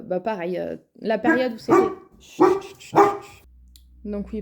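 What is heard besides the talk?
dog barking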